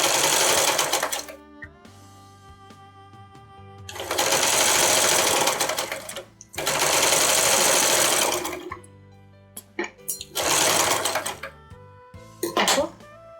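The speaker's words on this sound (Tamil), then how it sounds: "இந்த தைக்கிறேன் பாருங்கள்." A home sewing machine stitches a fabric face mask in several loud, close bursts of rapid whirring, separated by pauses filled with handling and shorter starts and stops.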